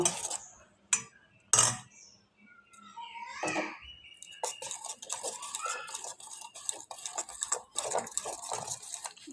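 Egg being beaten inside a tiffin box, a series of quick clinking, scraping strokes that follow a few sharp knocks near the start, close and moderately loud, keeping an uneven stirring rhythm.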